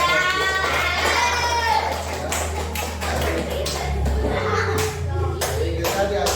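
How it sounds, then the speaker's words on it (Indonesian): Schoolchildren in a classroom clapping, a few scattered, uneven taps and claps at close range, with children's voices and chatter over them. "tepuk tangan."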